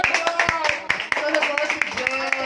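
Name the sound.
audience applause at a birthday party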